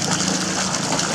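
A 2 HP Travino submersible pump runs steadily, pushing muddy well water out in a continuous rushing gush with a low hum beneath, close and unbroken throughout.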